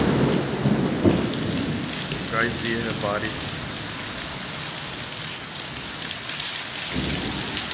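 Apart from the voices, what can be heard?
heavy rain with thunder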